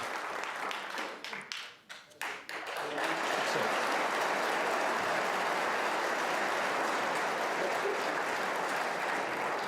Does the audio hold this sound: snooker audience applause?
yes